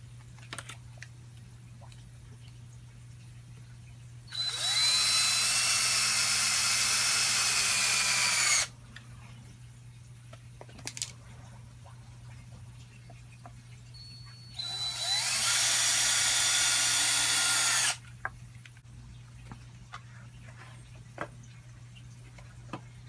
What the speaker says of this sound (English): Now I'm using a circular saw and making a mark on where the saw is going to be.